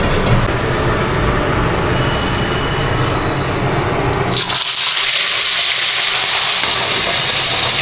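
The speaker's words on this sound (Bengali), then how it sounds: "এই যে এখানে মাছ ভাজা হয়ে গেল প্রায়" Large katla fish pieces, including a big head, fry in a pan in a village kitchen, giving a loud, dense, continuous sizzle that shifts to a brighter hiss partway through.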